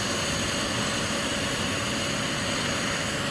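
An air ambulance helicopter at a landing site on Braden School Road in Chippewa gives off a loud, steady rotor and engine roar that fills the clip without a break. No one speaks.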